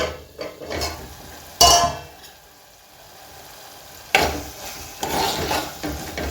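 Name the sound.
tomato masala frying in oil in a pan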